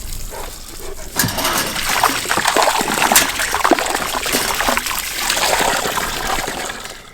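Water gushing and splashing into a container, steady and fairly close, with a louder surge partway through and no talk over it.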